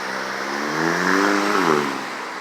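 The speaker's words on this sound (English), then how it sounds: "But what happens is you have cars flying down the street" A car speeds down a city street toward an intersection in a construction-choked square, its engine rising to a loud, close pass and then easing off, with no talk over it.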